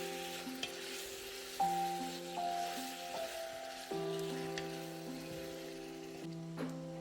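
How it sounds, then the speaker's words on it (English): Chopped beef frying in a pot for pilau, a constant crackling sizzle with occasional stirring scrapes, heard close under steady background music tones and without speech. "Now we'll add in our chopped beef. Stir well to ensure every part is covered."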